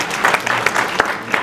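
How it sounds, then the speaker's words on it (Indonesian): A church congregation claps together for Jesus in a short, loud burst of applause, close and lively, with a few sharper individual claps standing out. "Saudara mau tepuk tangan buat Tuhan Yesus, saudara."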